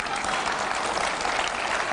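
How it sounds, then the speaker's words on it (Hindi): Continuous crowd applause at a political event tied to the 2023 Karnataka elections, a dense, even roar of many hands heard from a distance with no break. "अब यहां पर जो तालियां बज रही हैं"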